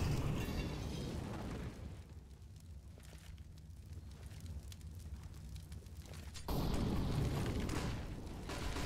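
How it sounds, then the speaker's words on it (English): Flashbang grenades go off in a Counter-Strike match on the Overpass map, with loud, broad booming bursts that swell over continuous in-game noise. "Flashbangs going to be thrown in."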